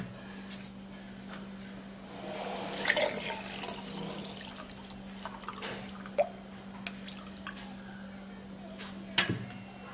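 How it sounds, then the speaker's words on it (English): Weight-loss tea strained through a sieve, with liquid dripping and trickling in soft, irregular drops over a faint steady hum, a few sharper splashes standing out near the end, and no talking. "after that is done, you will have to sieve it out"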